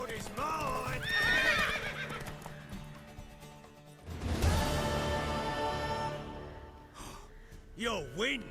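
Horse hooves clip-clopping and a horse neighing in The Witcher 3 game, with whinnies rising near the end, mixed under in-game dialogue and music.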